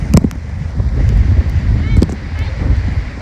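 Strong wind buffets the microphone in a constant low roar on a boat near Jin Island, Sai Kung, Hong Kong, with water and boat noise underneath and a few sharp knocks.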